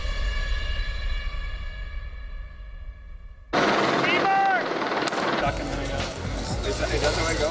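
A helicopter flies over a film set where a police SWAT shootout is being staged. After a quieter opening, a loud, close rotor roar with chopping pulses bursts in and carries on, with a voice partly heard over it.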